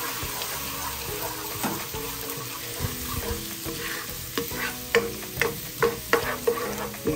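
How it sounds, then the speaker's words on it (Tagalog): About eight cloves of minced garlic sautéing in reduced cooking oil, a steady close sizzle with scraping stir strokes that grow more rhythmic and pronounced toward the end. "Igisa lang natin yan hanggang sa mag-brown yan ng konti."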